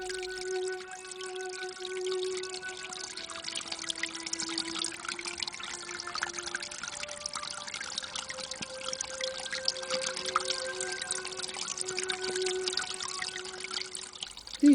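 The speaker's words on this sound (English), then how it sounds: "Sounds such as this, water leaking into the Leonard Piper hull" Water leaks and trickles into the wooden hull of the Thames sailing barge Leonard Piper, a continuous close dribbling and splashing with faint tonal hum underneath, no voices.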